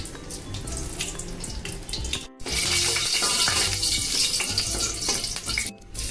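Dried red chilli, split in two, sizzling in hot oil for a dal tempering, a loud close crackling and hissing fry throughout with brief dips.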